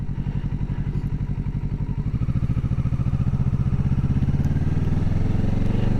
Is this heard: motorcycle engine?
yes